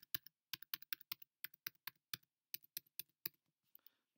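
Someone types on a computer keyboard, entering an address and credit card number: quick close clicks in irregular bursts, alone with no talk.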